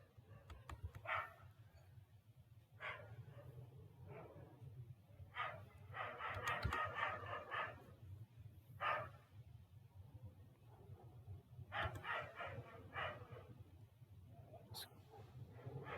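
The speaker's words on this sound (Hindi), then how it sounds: "हमारे आसपास कुत्ते बहुत ज़्यादा हैं।" Several dogs bark in short bursts nearby over a steady low background hum, with clusters of yips and barks recurring every few seconds and no talking.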